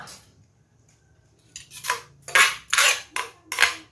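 A pestle pounding green papaya salad in a mortar, starting after a quiet moment: a quick series of loud, sharp clattering thuds in an uneven rhythm.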